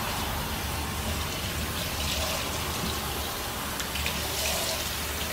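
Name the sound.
warm water rinsing conditioner out of hair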